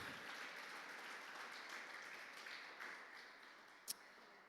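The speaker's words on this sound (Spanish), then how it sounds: "Dale un aplauso al Señor" Congregation applauding in church during a sermon, a soft, even spread of clapping heard from a distance, steady throughout with a single sharp tap near the end.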